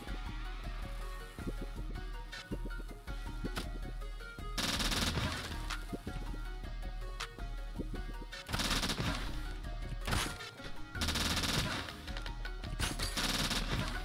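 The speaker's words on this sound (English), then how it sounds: "This assault rifle is so great." Assault rifle fire in the video game Turnip Boy Robs a Bank: rapid bursts of game gunshots in several loud runs separated by short pauses, with no talk.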